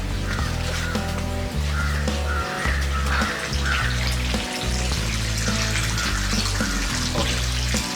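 Water pours steadily into a freshly cleaned tank being prepared for giant gourami breeding, a constant rushing flow at an even level throughout with faint tonal sounds underneath.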